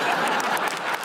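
Studio audience at a televised Russian comedy show applauding steadily, a dense, continuous wash of clapping with no pauses, loud and close throughout.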